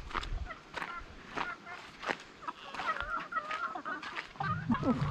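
Chickens cluck and chatter close by in a continuous stream, with scratchy footsteps and rustling mixed in.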